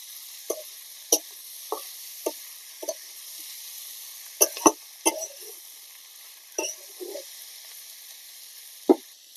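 Tomatoes sizzle in hot oil with frying dried shrimp and onion in a Bangladeshi village kitchen, a steady close hiss punctuated by regular clacks of a spoon stirring the pan.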